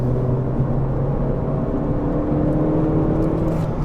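A Renault Clio RS Cup hot hatch pulls uphill in third gear, its engine droning steadily with a rising hum heard from inside the car, loud and continuous with no talk.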